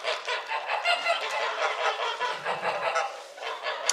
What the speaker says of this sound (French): On a les oies avec nous.